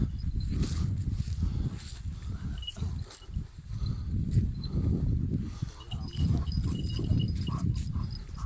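A herd of sheep or cattle heard outdoors, with scattered bleats and lowing over constant rustling and wind, steady and moderately loud with no talk.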